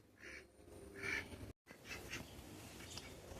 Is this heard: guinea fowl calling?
yes